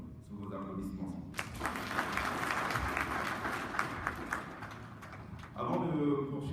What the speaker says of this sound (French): encore sous vos applaudissements